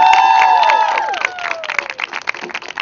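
An audience at a rally for young immigrants applauds the speakers. Loud clapping builds beneath a fading synth chime, then continues as irregular, close hand claps.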